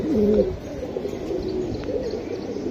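Large pigeons coo in low, wavering tones over a steady background hum, one clear rolling call at the start and softer cooing after it, close by with no clear talk.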